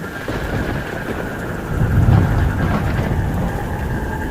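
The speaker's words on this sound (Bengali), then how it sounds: "এমন আকাশ ভাঙা বৃষ্টি হলো" Heavy rain pours down in a steady, dense roar with low rumbling swells that could be distant thunder, loud throughout and with no voices.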